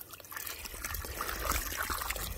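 Water runs from a hose onto pigs outdoors, a steady, soft splashing trickle that continues throughout without talk.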